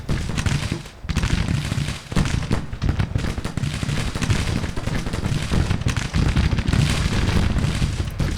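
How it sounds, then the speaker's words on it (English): Troops in a Civil War strategy game fire their muskets in a dense, continuous crackle of overlapping shots. The volleys roll on loud and steady for several seconds with no pauses. "Let's get everybody firing on Dunavant now."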